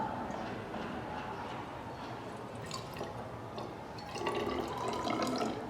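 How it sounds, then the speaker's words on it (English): Distilled water pours steadily into a laboratory flask during titration preparation, a continuous splashing trickle with faint dripping that swells slightly louder near the end, with no talking. "I have to now add up to the mark with distilled water."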